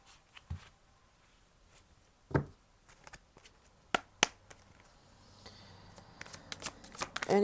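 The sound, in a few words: oracle cards being shuffled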